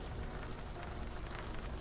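Steady rain falls in the video game Pennycress, a dense even hiss of drops on surfaces with no pauses and no other sounds, over a short stretch.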